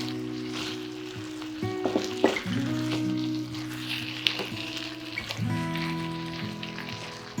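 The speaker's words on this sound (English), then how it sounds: "I'm gonna fry them together just for 2-3 minutes" Tomato puree frying with saffron and chicken in a pan, a quiet continuous sizzle with a few soft clinks and stirring sounds.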